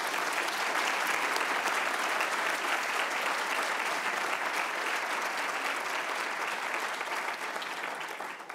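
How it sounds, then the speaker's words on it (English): An audience at a university provost's convocation applauds the deans, a dense and sustained clapping that holds steady for about eight seconds before it begins to fade. "How about a round of applause for our deans?"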